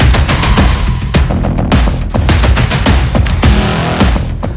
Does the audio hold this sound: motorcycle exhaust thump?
yes